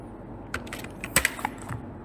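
A few quick computer keyboard key presses for a Ctrl+V paste while working in a spreadsheet, short scattered clicks over a faint steady background hum.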